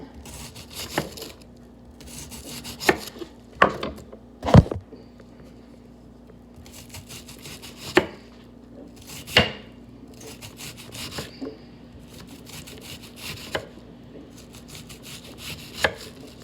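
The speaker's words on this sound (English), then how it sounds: "When I'm chopping like this" Vegetables being chopped on a cutting board for a navy bean stir fry, with irregular knife strikes and sharp, close thumps spread across a quiet kitchen with no talk.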